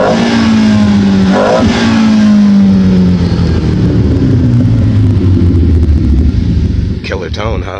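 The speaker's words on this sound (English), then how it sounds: "I like the fact that you can hear that intake" From inside the car, engine intake noise swells through a couple of revs then winds down in a descending drone, loud and close, with brief talking toward the end.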